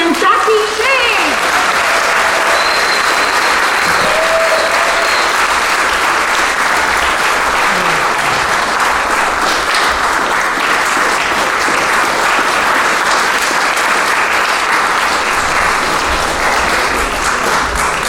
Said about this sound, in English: Let's give a round of applause to our honorable mention winners